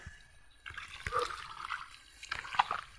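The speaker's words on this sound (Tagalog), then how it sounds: "Inom muna tayo ng tubig." Close, quiet water sloshing and gurgling in short bursts as it is sipped and swallowed from a bottle outdoors during a rice harvest, with no talking.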